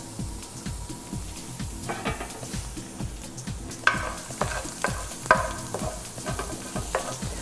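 Oiled bread sizzles on a hot grill pan, a steady frying crackle with scraping and tapping through the middle and a few sharper clinks near the end, no voices.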